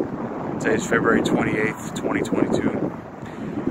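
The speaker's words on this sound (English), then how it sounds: "Damn, it's windy out here." Wind buffets the microphone outdoors as a steady low rumble, heard beneath someone speaking close to the microphone for the whole stretch.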